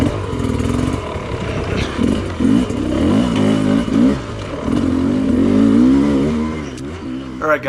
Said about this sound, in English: the engine on this bike is so smooth